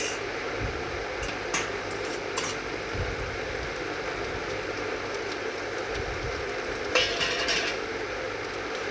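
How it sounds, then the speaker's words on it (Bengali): An egg omelette frying in a pan gives a steady soft sizzle, with occasional scrapes and clinks of a utensil against the pan, fairly faint and without talk. "একটা ডিম অমলেট ভেজে নিচ্ছি"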